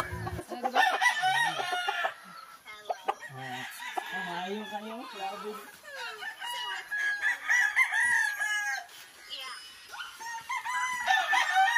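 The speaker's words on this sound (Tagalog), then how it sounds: "Hindi din pinalampas ni ate na humawak ng manok." Chickens cluck and a rooster crows repeatedly, the calls fairly loud and busy throughout, with a few other animal noises mixed in.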